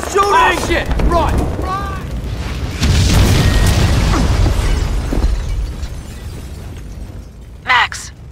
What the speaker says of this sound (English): The building's blowing up.